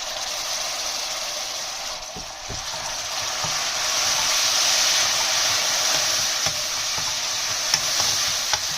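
Tomatoes frying in masala in a pan over a low flame, a steady broadband sizzle running throughout, with a few soft stirring scrapes and clicks near the end and no voices.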